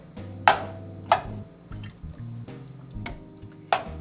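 San Marzano tomatoes being broken up in a sauce pan, giving a few wet, squishy crushing sounds at irregular intervals over a low steady simmer.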